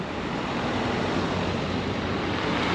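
Waves washing ashore at Calis Beach in Fethiye, a broad continuous rushing surf mixed with wind, steady and fairly loud with no talking.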